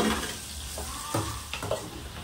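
Food frying in a pan during village-style cooking, a soft crackling sizzle with a few stirring scrapes and clinks, fairly quiet and close, with no speech.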